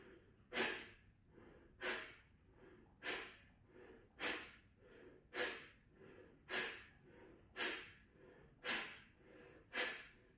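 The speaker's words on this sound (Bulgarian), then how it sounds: "Дишаме през нослето и рязко издишваме." A child does rapid bunny breathing, the kapalabhati yoga exercise: about ten sharp, forceful exhalations through the nose at an even pace of roughly one per second, each a short, close huff.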